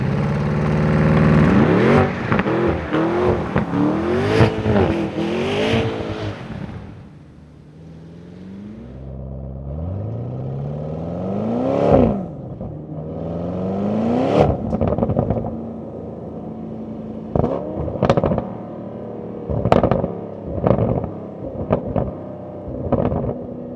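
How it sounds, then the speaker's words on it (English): A 2026 Audi RSQ8 Performance SUV engine revs loud and close, rising and falling in repeated sweeps, then easing to a lower idle-like hum before several sharp blips of throttle, with no voices. "let's give the RSQ8 Performance a proper listen"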